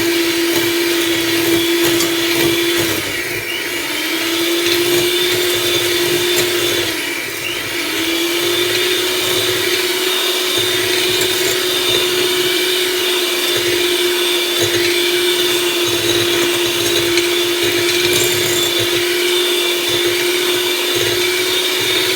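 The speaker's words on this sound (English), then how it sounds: "So now we want to get all of the butter and the sugar" An electric mixer creams butter and sugar for a ripe plantain cake, giving a steady, loud motor whine that runs unbroken for the whole stretch and dips briefly in pitch a couple of times as the beaters meet the mix.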